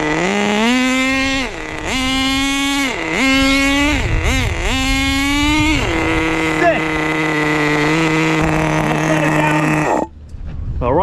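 A tiny 15 FE engine rated under half a horsepower, fitted with a JH1 stainless steel tuned pipe, buzzes loudly on a road test, its pitch rising and falling through repeated revs before settling into a steady drone that cuts off abruptly.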